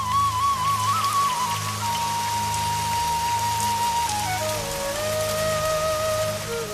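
Rain falls steadily at the Kadambrayar eco tourism spot near Ernakulam, a dense, even patter over a low background hum, with a thin whistling tone drifting through and no talking.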